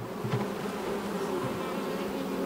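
Honeybees on a single-box beehive being inspected in autumn, giving a steady, close buzzing hum with a few louder passes, and no talk over it.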